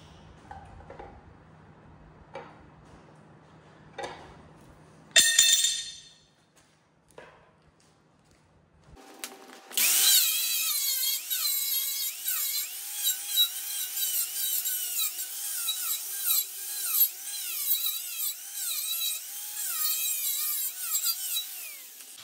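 Power tool sanding an aluminium trailer, a loud continuous abrasive whine with wavering pitch running through the second half, after a few quiet knocks and a brief burst.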